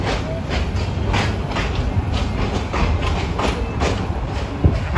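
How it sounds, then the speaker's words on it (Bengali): A commuter train rumbles past close by leaving a railway junction, with steady rolling noise and rhythmic clacking of wheels over rail joints, loud and continuous. "বগুড়া কমিউটার সান্তাহার জংশন ছেড়ে যাচ্ছে"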